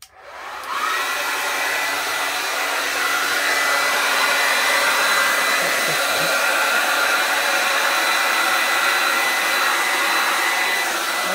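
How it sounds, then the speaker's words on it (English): A hair dryer set on cool and high switches on and blows steadily at full strength, a loud continuous whoosh that holds unchanged close by. "Dryer is set on cool and high."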